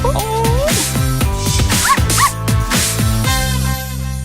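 Small dogs yip and bark in quick bursts, with a couple of thin whimpers between, over a steady tonal background of music.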